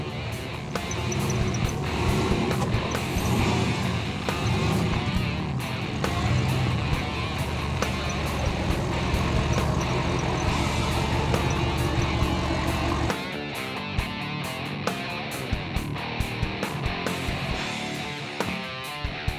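A modified Toyota off-road buggy drives with a steady, loud engine roar that rises and holds, then breaks into rougher, choppier rumbling in the last few seconds.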